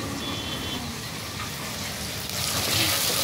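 Chopped onions and green chilies fry in a pan for a chicken gravy curry, a steady close sizzle that grows brighter and louder near the end, with no talk.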